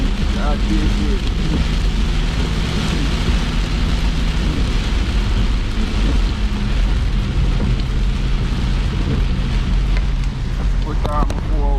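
Heavy rain pours steadily in Jamaica, a dense, loud hiss and patter that runs unbroken throughout, with low rumbling underneath and voices faintly mixed in at moments.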